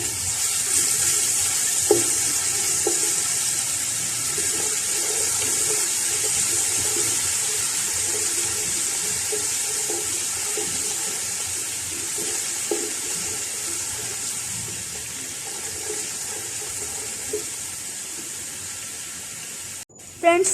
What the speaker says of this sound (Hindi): अब मैं लहसुन और अदरक को हल्का सा ब्राउन कर लूँगी।